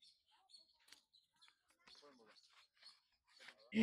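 Birds chirp in short, scattered calls at Guindy National Park, a mix of small tweets close by, with a voice talking over them and a loud bump at the end.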